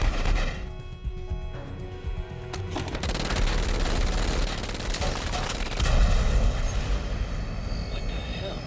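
Gunfire rattles inside an aircraft passenger cabin in the video game Army of Two, dense crackling bursts over a loud engine drone, with a voice talking through part of it.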